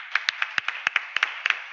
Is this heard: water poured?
no